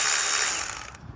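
Short, close metallic clicking from a ratchet loosening 10mm bolts on the turbo actuator of a 2019 Audi A1, a quick run of pawl clicks that tapers off within about a second.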